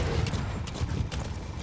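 A horse gallops in Metal Gear Solid V, its hooves clopping in a quick, continuous rhythm over a dense, loud rumbling game background for under two seconds.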